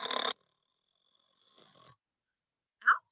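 A cartoon snoring sound effect for a big bad spider asleep in a grandmother's bed: a short raspy inhaled snore, a fainter wheezy breath, then a brief squeaky whistle, alone in silence.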